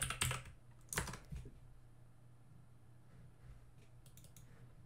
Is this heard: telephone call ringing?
no